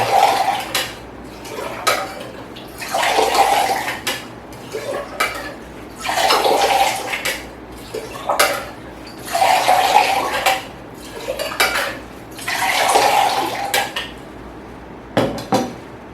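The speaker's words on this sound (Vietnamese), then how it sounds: "Chúng ta sẽ rót nguyên liệu từ mảnh nhỏ sang mảnh to và rót lại như thế này." Liquid poured back and forth between the small and large tins of a Boston shaker while mixing a cocktail, giving repeated metallic splashing pours in a steady rhythm, about five passes, close and clear with no talking.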